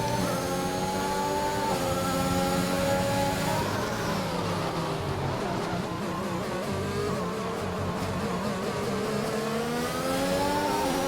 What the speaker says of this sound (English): And Joran will go on an overtake